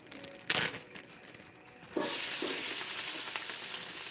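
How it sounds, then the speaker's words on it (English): Roughly chopped onions dropped into a hot pan during Sunday lunch cooking, giving a sudden loud, steady sizzle and hiss that holds after a quieter stretch with a couple of knocks. "So now I'm going to go ahead and add the roughly chopped onions."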